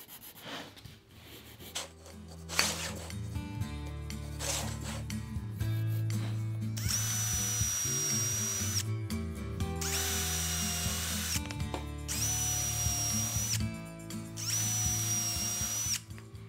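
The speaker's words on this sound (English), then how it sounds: "The first step is to measure and mark to pre-drill holes for the screws." A power drill pre-drilling screw holes in a wooden planter box, with brief handling knocks first, then four whining bursts of the drill biting into wood, separated by short pauses, close and fairly loud.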